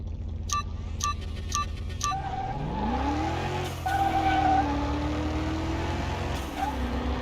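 A Ferrari GT with a performance transmission revs and shifts in Car Mechanic Simulator 21, engine pitch sweeping up and dropping with each gear change over a steady drone, with a few short beeps at the start.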